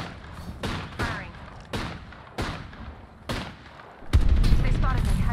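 Gunfire in the video game Apex Legends: several sharp shots ring out at roughly regular intervals, then a heavier burst of rapid fire at the end, all close and loud, with no talking.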